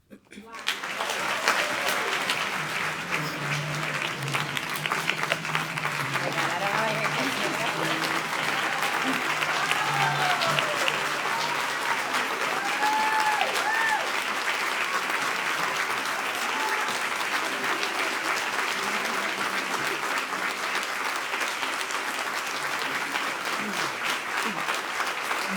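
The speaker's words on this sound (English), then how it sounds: "One more round of applause" Sustained applause from a luncheon audience, dense and steady for the full stretch with scattered cheers and whoops rising above the clapping.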